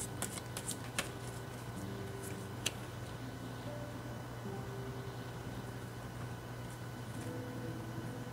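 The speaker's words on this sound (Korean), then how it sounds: "그럼 10월에 여러분들에게 일어날 기쁜 일에 대해서 카드 뽑아보도록 하겠습니다." Tarot cards being shuffled in soft, continuous riffling over a steady background hum, with a few light taps early on and no talk.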